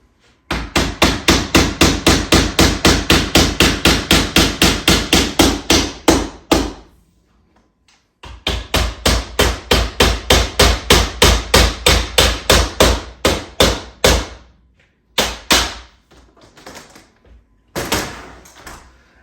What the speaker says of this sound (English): And then you come in with the end piece and hammer.